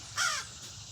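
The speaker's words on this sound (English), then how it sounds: "what is it with these birds? They're trying to get me." A single harsh crow caw, close and fairly loud, short and rasping, standing out from a steady outdoor background hiss on a quiet morning.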